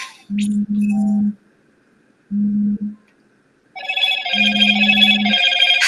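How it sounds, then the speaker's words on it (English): A phone rings in repeated electronic tones: three short low buzzing bursts with pauses, then a louder, brighter chiming ringtone that continues to the end. "Whose phone's ringing?"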